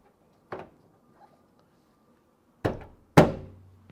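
A car door handle on a 2003 Toyota Matrix being pushed firmly into place: one light click, then two sharp plastic-and-metal thunks close together, loud and near with quiet gaps between.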